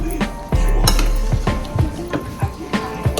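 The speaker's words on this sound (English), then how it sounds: "I'm gonna mix up all these powdered seasoning" A spoon works through powdered seasonings on chicken for Jamaican-style brown stew, giving rhythmic scraping and clinking against a bowl in repeated strokes, close and moderately loud.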